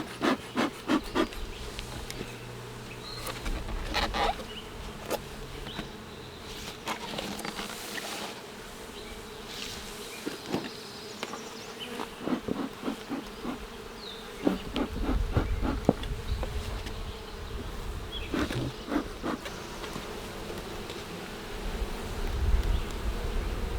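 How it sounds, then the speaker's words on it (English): Honeybees swarming around an open, smoked beehive during a frame inspection: a steady, dense buzzing drone fills the whole stretch, with individual bees zipping close past at irregular moments, loud and continuous with no talking. "if you can't see all the bees flying around here"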